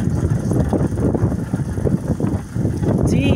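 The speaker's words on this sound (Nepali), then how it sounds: "चिसो हावा चलेको छ।" Cold wind blowing across hillsides on a mountain road, a loud rumbling buffet of gusts against the microphone that surges and dips throughout, with a faint higher tone near the end.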